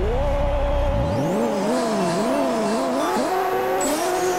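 A C6 Corvette with a 3700hp top-speed build launches and accelerates in Pixel Car Racer, its engine note climbing and dropping through quick shifts, loud and steady with tire noise.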